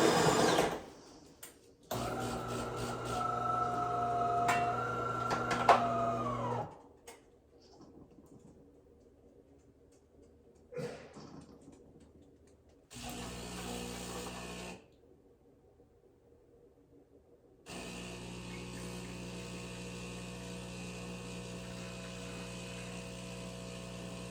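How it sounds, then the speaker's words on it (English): A De'Longhi Dinamica espresso machine grinds coffee beans with a loud, steady mechanical whir that stops and restarts. The bursts are separated by quieter pauses. A long sustained hum follows, likely brewing. "now it's gonna start grinding the beans and making the espresso"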